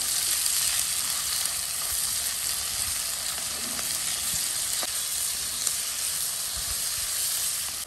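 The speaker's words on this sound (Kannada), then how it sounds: "ಓಕೆ ಈಗ 3 ಈರುಳ್ಳಿಯನ್ನು ಫ್ರೈ ಮಾಡುವ" Three roughly chopped onions softening in hot oil in a pan, a constant close sizzle with scattered small pops and faint stirring scrapes, no voices.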